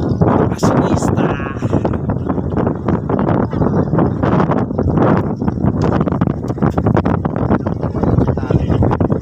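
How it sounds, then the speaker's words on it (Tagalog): Strong wind in Tagaytay buffets the microphone in loud, rough gusts that rumble and flutter without pause, with voices faintly mixed under the blowing. "kaya mahangin dito"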